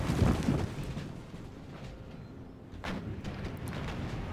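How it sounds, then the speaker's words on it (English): Cannon fire on a battlefield in Total War, a Russian Empire campaign against the Crimean Khanate: a low boom opens the clip, a second blast follows near the three-second mark, and a dull rumble of battle fills the gaps. "Another cannon shot."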